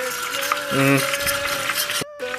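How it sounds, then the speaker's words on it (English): A sweet katsudon sauce with sugar is stirred in a hot pan, a steady scraping and stirring over a soft sizzle, with a brief clink and a short drop-out near the end; a few tonal kitchen sounds sit above. "Also make sure to mix or whatever, because the sugar, you don't want it to stick to the pan."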